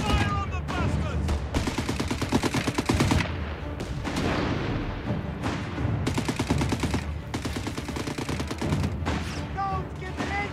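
Rapid rifle and machine-gun fire in Company of Heroes 3 multiplayer battle, dense volleys crackling almost continuously with short lulls, loud and close, with shouted voices mixed in.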